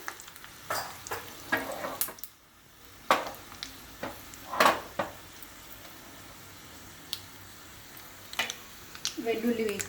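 Cumin, mustard seeds and dried red chillies pop and crackle in hot oil as tempering, with scattered sharp bursts and a brief lull, and a voice speaking intermittently over the frying.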